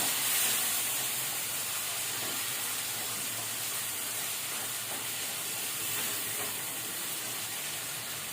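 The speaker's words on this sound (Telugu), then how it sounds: "నెక్స్ట్ ఇక్కడ టొమాటో వేసుకుంటున్నా నేను." Tomatoes dropped into hot ginger garlic paste in a pan for a simple tomato curry, giving a steady, even sizzle and hiss that carries on for several seconds with no talking.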